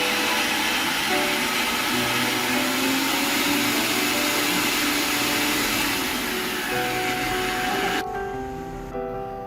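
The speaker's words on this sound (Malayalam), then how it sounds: "ഈ അരമുറി തേങ്ങയും അതേപോലെ തന്നെ ഈ ഒരു വെളുത്തുള്ളിയും ചേർത്ത് ഒന്ന് ചതച്ചെടുക്കാം" A kitchen grinder whirs steadily while crushing half a coconut with garlic for a jackfruit curry, a loud continuous motor drone that winds down near the end.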